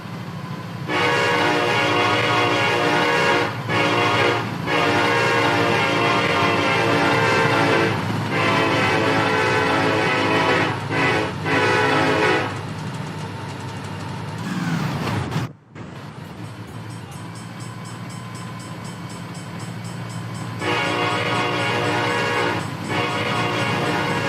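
A Norfolk and Western 611 steam locomotive sounds its horn in long, loud blasts that repeat over steady rail rumble, break off briefly and return near the end.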